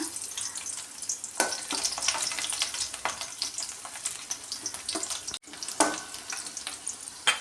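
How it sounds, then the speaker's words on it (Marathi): Crushed garlic, ten to twelve cloves, frying in two spoons of oil in a kadhai, a constant close sizzle broken by sharp bursts and scraping as it is stirred. "दहा बारा पाकळ्या मी लसणाच्या इथे ठेचून घेतल्या आहे ते आपण या तेलामध्ये आता परतून घेऊया"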